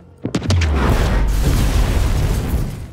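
A loud, deep explosion blows up the road leading to a room in an action film, opening with a few sharp bangs before a sustained roaring rumble that slowly fades.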